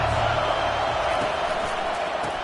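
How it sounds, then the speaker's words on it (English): A stadium crowd at a college football game between Alabama and Auburn roars in a steady, loud, sustained wash of cheering that fills the whole stretch, with no distinct single voices. "This crowd bringing an ear-splitting welcome to their visitors."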